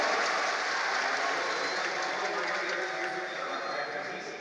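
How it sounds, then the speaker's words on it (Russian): Steady applause from a large esports arena crowd at The International 2018 Dota 2 playoffs as a player walks on stage, dense and moderately distant under a commentator's voice, easing off toward the end. "Теплые аплодисменты ему идут."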